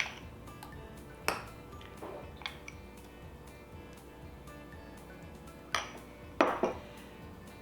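Vegan butter spread is scooped into a bowl, with a few light clinks and taps of utensil against dish standing out from quiet background.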